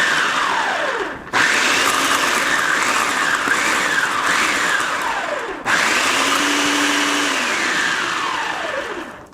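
A food processor pulses cold butter cubes into a chocolate graham cracker mix, loud whirring bursts with a motor pitch that rises and falls, broken by two short pauses between pulses.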